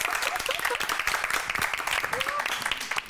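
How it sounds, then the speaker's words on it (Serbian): Studio audience on a Serbian TV competition show breaks into steady, dense clapping for the weekly winning team, sustained at even loudness throughout with a few voices and cheers mixed into the applause. "Jedan veliki aplauz."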